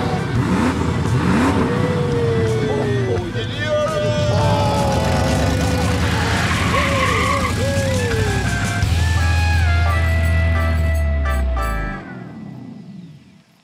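A car engine revving and accelerating as the vehicle pulls away, loud and close, with a rising engine note, people talking and music over it, then cutting off abruptly.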